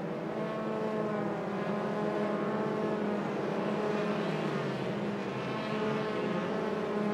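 Several Formula 3 race cars of the 2013 FIA F3 European Championship scream past at high revs, a continuous loud engine drone with shifting pitch as cars chase each other closely, heard without talk.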